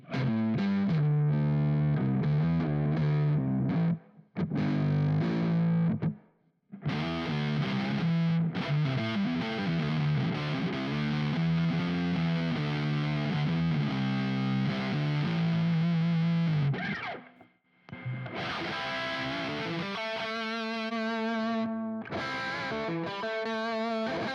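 Electric guitar through a Neural DSP Nano Cortex, volume rolled back, playing chords and riffs with a clean-to-crunchy, lightly overdriven tone, with a few brief pauses between phrases.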